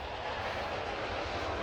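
Steady, even airplane engine drone from the video game Gibbous, a continuous broadband roar of an aircraft in flight held at constant loudness with no talking.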